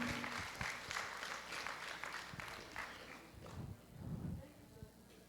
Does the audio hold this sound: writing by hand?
no